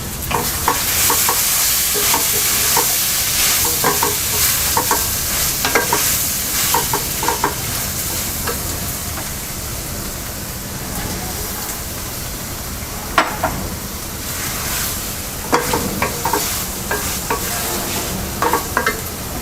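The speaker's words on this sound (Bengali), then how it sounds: "সিম আলু কষিয়ে নেওয়া হয়ে গেছে, এবার টমেটো ফালি দিয়ে দিচ্ছি।" Stirring and sizzling of tomato slices frying with flat beans and potatoes in a pan, a steady dense hiss broken by scraping stir strokes and occasional clacks, close and continuous with no talking.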